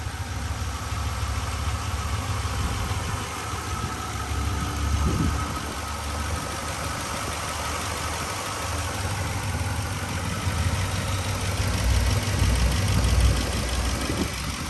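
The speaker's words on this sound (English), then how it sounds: "All right, so y'all hear the engine. It's pretty quiet, but I am hearing like something." A 2022 Ram 1500 Laramie pickup idles with the hood open, a steady low engine hum with a faint ticking undertone, fairly quiet and constant with no voices.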